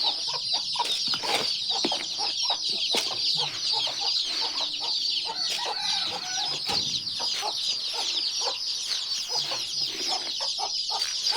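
Caged farm chickens cluck continuously in a busy chorus of overlapping calls, with occasional louder squawks close by and no talking.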